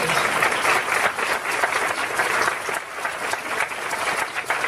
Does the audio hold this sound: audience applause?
yes